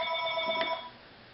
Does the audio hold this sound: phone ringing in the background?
yes